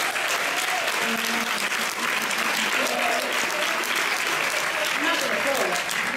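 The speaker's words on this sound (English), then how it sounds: "Give her a round of applause." Audience applause for a contest winner at a live event, steady dense clapping throughout with a crowd's cheering and voices mixed in, fairly loud and sustained.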